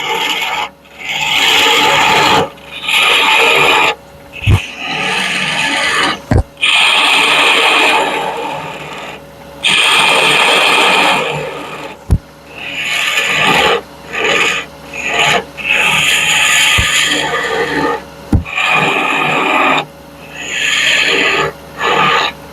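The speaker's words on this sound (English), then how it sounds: "now I just need to finish sanding this one" Steady back-and-forth rasping of 120-grit sandpaper on wood, loud and close, in long strokes broken by short pauses and a few sharp knocks.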